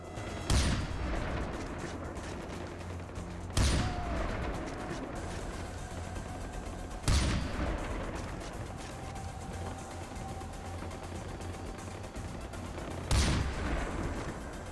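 Gunfire in Far Cry 4 comes as four loud, booming shots spaced a few seconds apart over a steady, dense rumble of battle noise.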